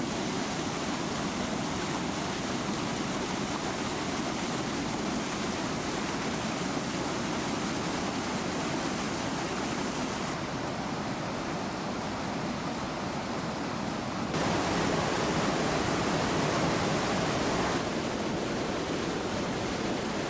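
Roaring Valgejõgi waterfall in Lahemaa, about 20 m wide and 1.2 m high with rapids below, a dense, steady rush of falling water heard close and loud throughout.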